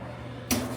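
A kitchen drawer in a Disney hotel room is pulled open or shut, making one sharp, close wooden bump and rattle after a moment of quiet room tone.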